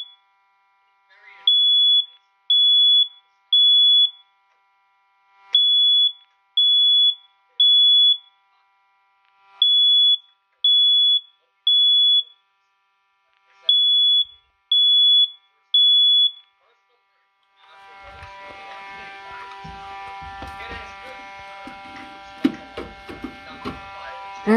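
A First Alert smoke alarm under test sounds loud, repeated three-beep bursts, four groups in all separated by short pauses. A louder, broadband electronic alarm then takes over and continues steadily to the end.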